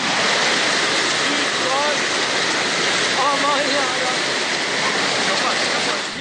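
Heavy rain and hail pounding down in a summer storm, a dense, loud, continuous roar of falling water and ice, with faint voices briefly audible beneath it.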